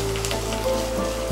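Chopped ginger crackles and sizzles steadily in hot oil while making injipuli, a close, continuous frying hiss with no talking.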